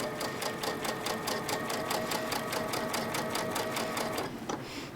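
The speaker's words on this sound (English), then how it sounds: "we're going to do that 1/4 inch seam again" Sewing machine stitching a quarter-inch seam in fabric, a loud, fast, even mechanical rattle running steadily close by, then slowing and stopping near the end.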